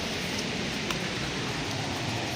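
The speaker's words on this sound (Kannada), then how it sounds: "ಆ ಪಾಲ್ಸು ಕೆಳಗಡೆ ಬೀಳುತ್ತಲ್ಲ ಅದೆಲ್ಲ ಮ್ಯಾಲೆ ಒಂಥರ ಆಗಿ ಬಂದು ಇಲ್ಲೆಲ್ಲ ನೀರು ಬೀಳುತ್ತೆ" Spray from Unchalli (Lushington) Falls drifts down like rain, a dense, steady hiss of falling water that fills the scene evenly and loudly throughout.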